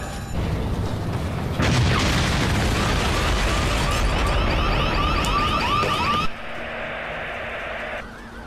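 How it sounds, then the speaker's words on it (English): A sudden loud blast erupts into a sustained roaring rumble that lasts several seconds, then cuts to a quieter hum. "There's been an explosion."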